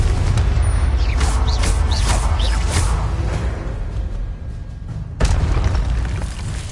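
Confringo spell explosions in the wizarding game Hogwarts Legacy, loud booming blasts with whooshing swishes, fading and then a fresh burst near the end, no voices.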